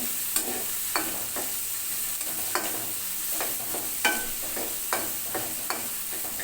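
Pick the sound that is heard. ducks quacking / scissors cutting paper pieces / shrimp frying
shrimp frying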